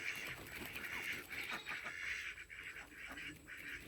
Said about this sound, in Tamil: எத்தனை வாத்து பாருங்கள் சுற்றியும்